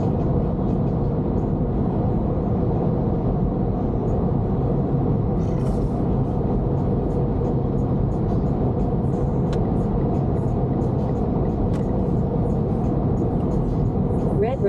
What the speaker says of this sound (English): I hear more car noises than you.